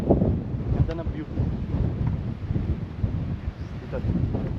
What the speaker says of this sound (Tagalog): Sarap ng hangin dito guys.